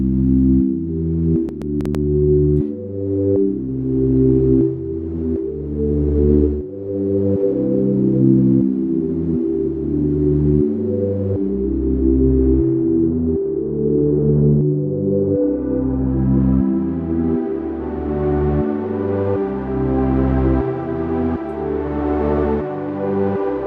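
A wavetable synth pad with added noise and a long release holds dense low chords that blend into one another, steady and loud, with a brighter airy layer swelling in toward the end and no talk.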